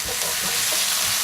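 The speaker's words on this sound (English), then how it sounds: "just pop the garlic in" Garlic and onion fry in a pan for a Tuscan beef stew, giving a steady, close hiss of sizzling with a little stirring texture and no talk.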